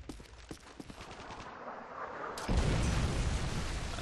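Gunfire in Call of Duty Modern Warfare 3: a rapid series of sharp shots, then a heavy, louder burst of sustained fire and rumbling blasts in the last seconds.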